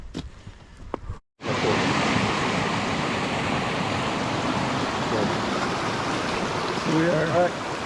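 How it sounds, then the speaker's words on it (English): A few light clicks, then a steady, loud rush of a stream at a hiking-trail water crossing nearby, continuous and broadband, with faint voices briefly under it near the end. "We are here at another water crossing"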